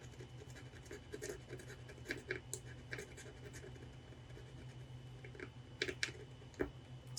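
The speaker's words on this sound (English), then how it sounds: "So let's go ahead and scratch right here." Scratch-off savings challenge card being scratched with a coin or nail: a run of short, dry scraping strokes in uneven bursts, close and fairly quiet, with a few sharper scrapes near the end.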